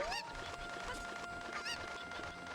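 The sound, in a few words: Cuckoo chicken sound from video game Zelda: Ocarina of Time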